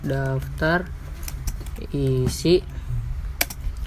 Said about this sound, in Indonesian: kita ketik daftar isi